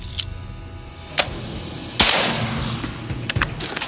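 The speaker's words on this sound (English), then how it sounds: "We got a 50 cal that's shooting in here right now" Browning .50 caliber machine gun firing on an outdoor range, heard as a few sharp, distant-sounding reports with booming echoes rolling between them, no talking.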